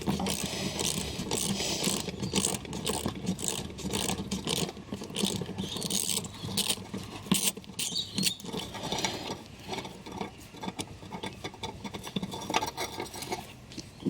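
Interior part being pulled out of a Merkur car after unbolting, a continuous stretch of close scraping, rattling and clicking plastic and metal with irregular knocks throughout.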